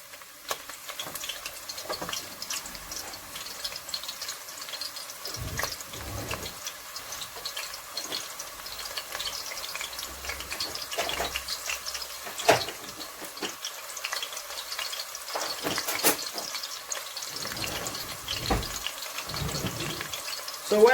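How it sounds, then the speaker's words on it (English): Onions, garlic and ginger tipped into melted palm oil for a Nigerian ayamase stew, giving a moderate crackling sizzle with irregular pops and bursts throughout. "So now I'm gonna tip in my onions, garlic, ginger in there."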